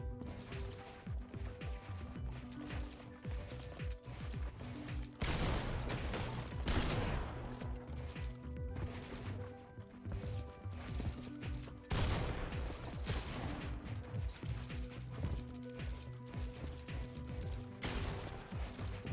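Dense bursts of rapid gunfire from Fortnite gameplay, loud and sustained across the whole stretch with heavier volleys near the start and middle, layered with game music and effects and no talking.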